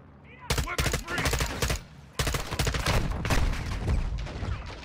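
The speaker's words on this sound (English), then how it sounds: "They are shooting me through these boulders." Gunfire in Call of Duty: Modern Warfare 2, dense bursts of rapid automatic shots with heavy booming impacts, loud and close, rattling almost continuously across two long volleys.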